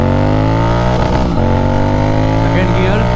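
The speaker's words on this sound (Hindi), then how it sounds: "ये है भाई रेड रजिस्टर का साउंड।" Royal Enfield GT 650 twin fitted with a Red Rooster exhaust pulling in first gear, a loud, close, continuous deep engine drone with a brief change in pitch partway through.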